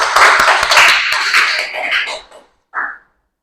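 A classroom full of students claps hands together after a programming lesson answer, a loud, dense burst of many overlapping claps that fades out, followed by one brief short sound.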